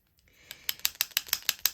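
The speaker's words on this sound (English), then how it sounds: "I'm going to take my Wink of Stella and shake it up." A Wink of Stella glitter pen shaken by hand gives a quick run of about eight sharp, evenly spaced rattling clicks, close and fairly quiet.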